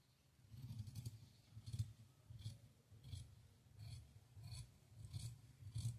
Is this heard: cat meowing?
no